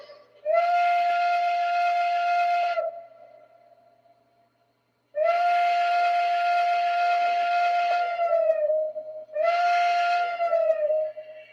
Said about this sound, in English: Lionel's Banshee whistle, I will say, is really nice